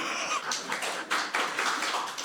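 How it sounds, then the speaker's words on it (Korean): A church congregation claps during a Sunday worship sermon, with scattered, uneven hand claps at moderate distance that rise and fall over a couple of seconds. "내가 설교하다 박수를 다 받나"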